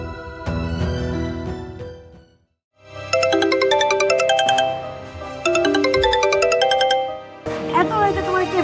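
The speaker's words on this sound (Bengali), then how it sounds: "এত রাতে তোমার কে ফোন দেয়?" A mobile phone rings at night, a loud melodic ringtone playing in repeated bursts with a short silent gap, each phrase a bright run of chiming notes.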